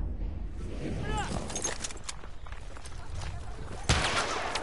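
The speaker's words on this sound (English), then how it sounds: "Spotted a machine gun." Machine-gun fire from the Battlefield 1 video game rattles in quick bursts against a busy battlefield din, with one sharp loud burst near the end and some game voices.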